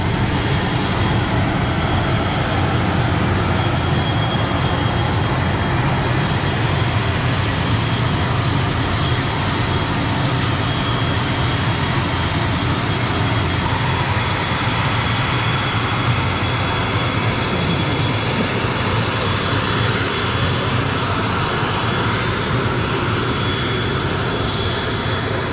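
Malindo Air airliner jet engines roaring steadily during takeoff from Subang, a dense, continuous broadband rush with a thin high whine running throughout, loud and sustained without any talking.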